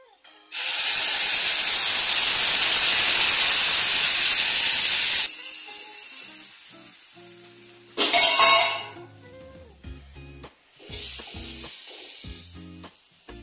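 Hot water hits a hot pan of roasted semolina for sheera with a loud, sustained sizzling hiss that suddenly drops away, followed by quieter bubbling and a brief second spurt.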